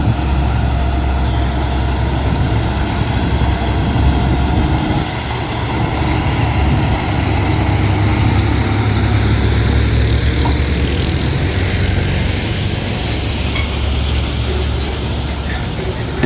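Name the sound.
heavy truck hauling 60-ton crane up steep pass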